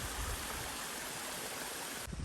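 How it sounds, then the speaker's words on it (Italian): Waterfall in the woods: a steady, dense rush of falling water, fairly close and constant for about two seconds with no voices. "e una cascata."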